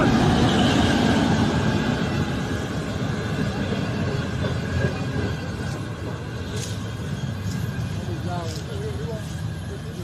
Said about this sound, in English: The train has just arrived.